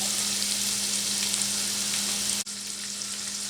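Chicken curry ingredients sizzle and fry steadily in a hot pan as they brown, a dense continuous crackle heard up close with no talking, briefly dipping for a moment near the end before carrying on.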